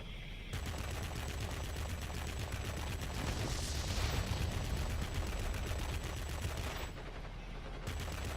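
Rapid, continuous aircraft cannon fire from a Tier X Russian Ilyushin IL-40P attack aircraft in the video game World of Warplanes, rattling steadily for about six seconds over a dense roar, without speech.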